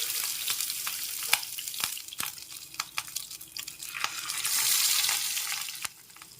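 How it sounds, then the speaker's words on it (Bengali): Fish roe fries in hot oil in a wok, with a steady close sizzle and crackle broken by sharp pops and occasional clicks of a utensil. "তেলটা গরম হয়ে গেছে এবার ডিমটা ভেজে নিতে হবে"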